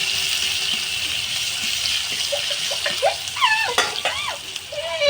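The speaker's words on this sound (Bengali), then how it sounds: "আমি পেঁয়াজটা হালকা নেড়ে নেব একটু।" Sliced onions frying in a pan, a steady close sizzle with a few scraping stirs and spatula knocks toward the end, no voices.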